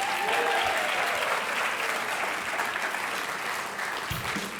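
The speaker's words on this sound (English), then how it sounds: "I want to cite the name of our next inductee for a round of applause" A dinner audience gives a sustained round of applause for an award inductee, a dense, steady wash of many hands clapping that fades slightly toward the end.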